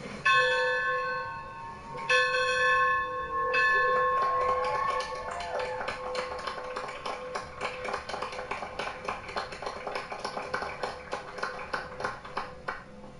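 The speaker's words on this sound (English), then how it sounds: "I will ring the bell." A bell rung at a campus welcome ceremony: a few clear strikes with long ringing tones, then a quick run of repeated rings carrying over crowd noise and applause.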